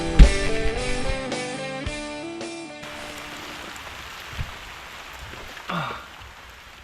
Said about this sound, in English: Well, it's raining good now.